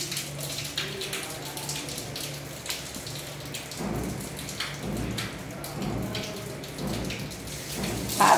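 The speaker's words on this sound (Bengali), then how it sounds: "এক এক করে মাছগুলো ছেড়ে দেব, এক করে মাছ ছেড়ে দিতেছি।" Pieces of chital fish sizzle as they are dropped one by one into hot oil in a pan while making Bengali fish curry, a steady crackling hiss that swells and pulses through the stretch without any talk.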